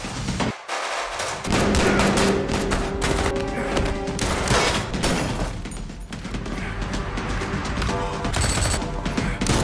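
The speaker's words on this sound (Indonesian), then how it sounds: "Dan keduanya saling menembak." Rapid bursts of gunfire crackle back and forth in a film shootout, dense and loud, with occasional heavier impacts and no speech.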